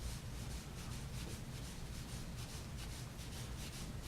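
A cleaning patch is worked back and forth through the bore of an HK VP9 pistol, making a steady, quiet rubbing and scraping in regular strokes with no voices.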